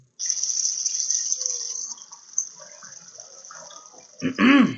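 A rocky creek runs steadily with a bright, trickling hiss, fairly close, fading down partway through before a louder splash near the end.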